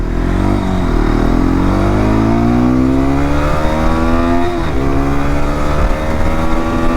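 A Hero XPulse 210 motorcycle at full throttle climbs loudly through the gears, its engine note rising in long sweeps with brief dips at each shift. Close and continuous, with no voices.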